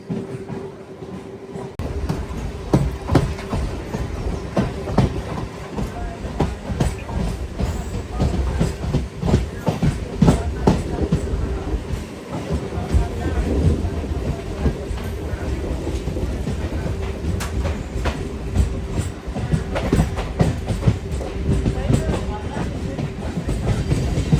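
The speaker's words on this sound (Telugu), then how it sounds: "కృష్ణా జంక్షన్ నుంచి మన బండి స్టార్ట్ అయ్యింది" A MEMU train runs out of Krishna junction on the Kacheguda to Raichur route, with loud continuous rumbling and rhythmic wheel clatter heard from inside the carriage, and a steady tonal whine underneath.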